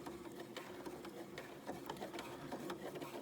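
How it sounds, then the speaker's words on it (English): Sewing machine stitching through several layers of fabric and elastic, a fast, steady mechanical rattle with quick ticking, faint and continuous, with no voices. "Sometimes you might have to pull the elastic a little bit to get the machine to start pulling it through."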